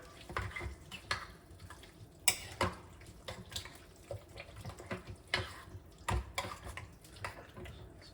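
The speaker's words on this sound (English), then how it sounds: "Give it a quick stir around, get it all mixed up." Chili ingredients being stirred in a pot, with wet sloshing and scraping in short irregular bursts and a few sharper clacks of the spoon against the pot, close and moderately quiet, with no talk.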